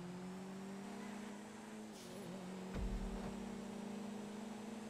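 A car engine in the GTA 5 video game drones steadily at a constant pitch through a drifting race, with a brief low thump and rev partway through, fairly faint.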